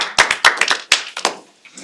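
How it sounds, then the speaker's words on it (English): A few people at a New York City public housing preservation trust board meeting give a brief, sparse round of applause, with scattered close claps that thin out quickly. "I think a quick round of applause"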